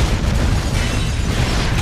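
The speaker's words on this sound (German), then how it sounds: "Cool guys don't look at explosions." Explosion in the video game GTA 5, a loud, dense, sustained roaring blast that fills the space without pause.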